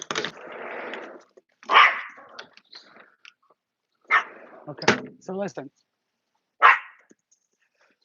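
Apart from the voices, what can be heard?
dog barking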